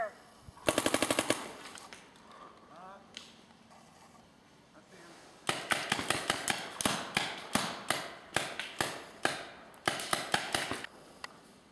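Paintball guns firing at an outdoor paintball field in Ashtabula, Ohio: a fast burst of rapid pops early on, a quieter stretch, then long strings of sharp, closely spaced shots in quick rhythmic volleys, with faint voices in the background.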